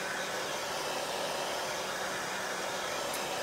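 A hair dryer blows steadily on a chalk paste craft project, a loud, continuous, close airy whoosh with no talking.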